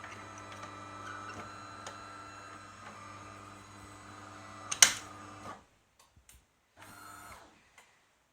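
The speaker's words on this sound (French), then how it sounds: "Comme vous pouvez le constater, celle-ci procède à un rinçage à nouveau" A DeLonghi ESAM 04.320 coffee machine runs a rinse cycle with a steady mechanical hum and whir and faint ticking. A sharp clunk follows, then the motor stops, with brief faint clicks and a short whir after.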